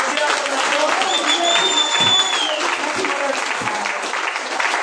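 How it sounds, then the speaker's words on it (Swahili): Congregation at a church mission meeting breaking into sustained applause, a loud, dense wash of clapping with a voice talking and a faint whistle-like tone above it. "Piga hiyo makofi."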